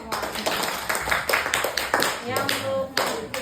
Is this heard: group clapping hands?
yes